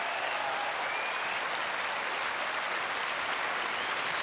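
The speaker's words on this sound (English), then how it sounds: "Well, no wonder the applause is prolonged, because after just 27 minutes, rusedski has" A tennis crowd applauds after a set ends in a match between Rusedski and Ivanisevic, with dense, even, sustained clapping from the stands, heard alone at a distance and without pause.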